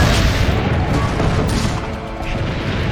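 Heavy cannon fire in Assassin's Creed Brotherhood during a siege battle, a dense rumbling barrage of booms and crashes that stays loud and continuous throughout.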